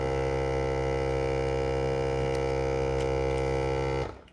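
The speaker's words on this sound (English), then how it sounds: "Now it's created a vacuum, and it is sealing that bag shut." A vacuum sealer pumps the air from a bag of beef tenderloin and heat-seals it, giving a loud, steady mechanical hum that runs unbroken for about four seconds, then cuts off abruptly.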